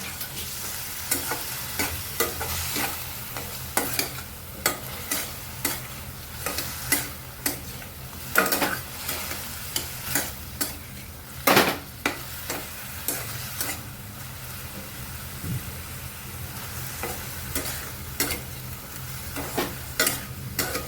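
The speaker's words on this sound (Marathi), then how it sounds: "आपली कोळंबीसुद्धा फ्राय होते" Large fresh prawns fry in a pan, a continuous sizzle punctuated by repeated sharp scraping clicks of a spoon stirring against the pan every second or so, close and clear with no talk.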